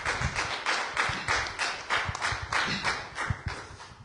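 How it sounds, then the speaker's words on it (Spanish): A church congregation claps in strong rhythmic unison, the sharp beats landing roughly twice a second in a steady, lively pattern with no voices over it. "Un aplauso a nuestro Curios. Fuerte, que se oiga."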